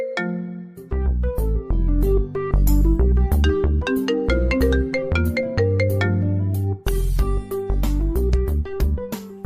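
A loud melodic phone ringtone plays alone, a bright synthesized tune of quick repeating notes that continues without pause.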